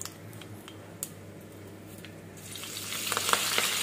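Green chillies and onion frying in a kitchen pan with curry leaves over a low gas flame: soft crackling at first, then a sizzle that swells louder over the last second, with scattered small ticks.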